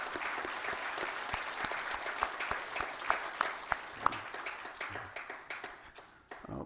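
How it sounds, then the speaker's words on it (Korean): A church congregation at a Sunday morning service claps in thanks for its leaders, many hands in a dense patter with some distinct sharp claps, slowly thinning and fading toward the end. "우리 수고하시고 또 앞으로도 수고하실 우리 리더를 위해서 감사의 박수"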